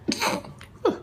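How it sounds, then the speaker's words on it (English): A person sneezes at close range during home biscuit baking: one sharp burst, then a shorter second sneeze a moment later, with no talking. "Our cinematographer is sneezing."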